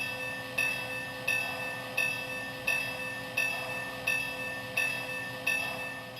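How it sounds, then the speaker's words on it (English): A Lionel LionChief Plus Baltimore and Ohio model train locomotive bell clangs in a steady, even rhythm, about eight strikes, each ringing briefly before the next, over a faint background hum. "Here's the bell."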